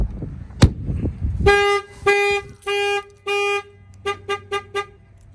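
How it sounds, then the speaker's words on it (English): A 2019 Chevy Express's alarm gives a short chirp on arming, then several longer electronic tones, followed by a quick run of four rapid chirps, loud and close. "one chirp means the alarm is on"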